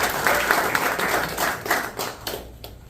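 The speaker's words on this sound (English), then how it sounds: "let's give Blake a round of applause here" Audience applause at a real estate investing event, a steady wash of many hands clapping that holds for a few seconds and then thins out toward the end.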